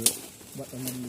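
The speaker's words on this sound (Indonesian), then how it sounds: "Suara burung tuh kawan." A dove-like bird coos in a forest near a camping spot, soft cooing notes heard under a man's nearby speech, with faint rustling in the background.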